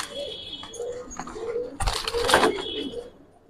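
Old-breed Giribaz and coloured pigeons coo in low, repeated rolling notes close by, with a burst of wing flapping or scuffling near the middle.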